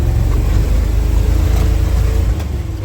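A Flatfender Jeep's engine running rough and loud after a cold start in snow, a dense rattling low idle that drops slightly in level near the end.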